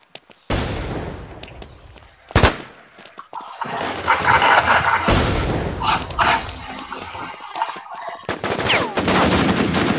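Gunfire in the video game Warinc Battlezone: sharp shots and bursts of automatic fire, with one loud crack near the start and dense clattering volleys later, loud and close throughout.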